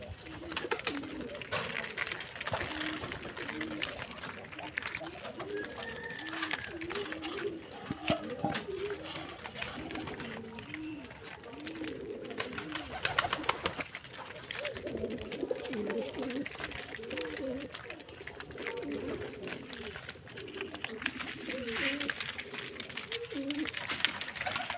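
Pigeons kept on a pigeon farm coo repeatedly, soft, overlapping calls from several birds close by, with rustling and a person talking quietly at times.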